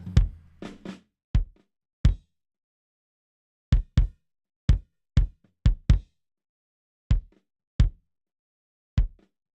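A rock kick drum track run through a Waves C1 noise gate gives isolated, tight, punchy thumps in an uneven pattern, each cut off cleanly into near silence with no background bleed between hits.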